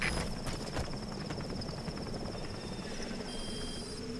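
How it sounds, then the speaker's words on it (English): A support helicopter arrives in the game Metal Gear Solid V, a steady rapid rotor thump that pulses through a dense, muffled roar and stays at a constant, moderately faint level throughout. "Support helicopter requested."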